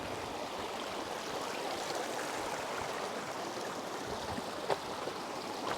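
A mountain torrent rushes steadily and unbroken, a dense broadband roar of flowing water heard alone at moderate distance, with one brief sharper splash near the end.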